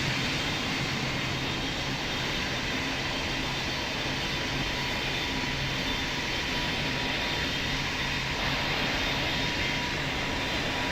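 Simulated jet airliner taking off in the Roblox game Pilot Training Flight Simulator, a loud, steady, dense engine roar that holds evenly throughout without talk.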